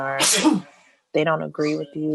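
A single sharp, breathy sneeze bursts out between stretches of casual conversation, with people talking on either side of it.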